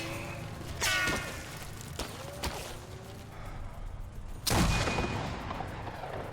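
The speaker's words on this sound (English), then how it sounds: "I'm getting shot at." Gunfire in the VR shooter Sniper Elite VR: two loud, sharp shots several seconds apart with a few fainter reports between them, over a steady low background rumble.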